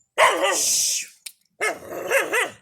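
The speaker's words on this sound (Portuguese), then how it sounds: "tô com essa cadela aqui, né? Tá ficando ceguinha." An aging female dog that is going blind and has an open cancer barks and growls loudly up close in two sustained bursts separated by a short pause, with no one talking.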